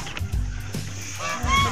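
A goose on a muscovy duck farm gives a few short, nasal honks close by, the last one rising sharply at the end of the brief burst.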